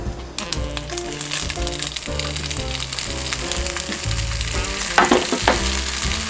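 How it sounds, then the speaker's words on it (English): Sausage and bacon sizzle steadily in about a tablespoon of olive oil in a pan over medium-high heat, a continuous crackling fry with some stirring, under background music. "We're gonna place our sausage and bacon in the pan."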